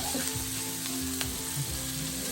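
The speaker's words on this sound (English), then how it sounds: "You're frying the onions and the garlic" Steady sizzling of onions and garlic frying in a pan for Filipino caldereta stew, with faint stirring scrapes and no talking.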